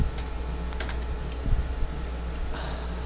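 Fingers type on a computer keyboard in quick bursts of clicky keystrokes, close and fairly quiet, with a faint steady room hum behind.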